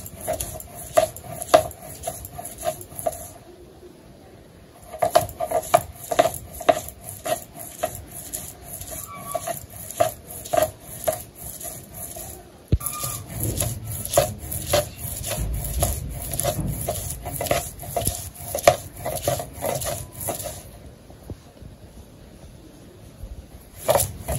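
Ginger, garlic and onion ground into paste by hand in a village kitchen, with repeated rhythmic scraping and knocking strokes of stone on stone, close and moderately loud, pausing briefly twice.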